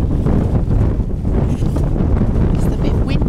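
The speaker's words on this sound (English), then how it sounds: "It's a bit windy" Strong wind buffets the microphone in a constant low roar on a winter hillside at about 550 metres elevation, gusting slightly louder and softer with no speech over it.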